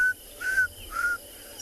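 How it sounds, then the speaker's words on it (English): Southern carmine bee-eaters call at sunrise on safari, three short, clear, fairly faint whistled notes evenly spaced over a low rumble of background noise. "southern carmine bee-eaters that I can hear calling"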